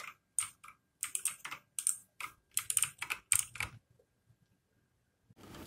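Rapid clacky keystrokes on a Coconut K12 Orion TKL mechanical keyboard in uneven bursts, close and crisp, then a pause with a few faint clicks before typing resumes.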